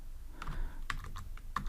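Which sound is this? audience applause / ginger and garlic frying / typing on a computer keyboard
typing on a computer keyboard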